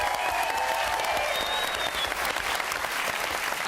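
A studio audience at a televised Christmas music quiz show gives sustained, even applause that fills the room from start to finish without a break.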